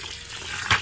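Water running into a container of oats being soaked as fermented feed for chickens and pigs, a steady close hiss of filling with a brief louder splash near the end.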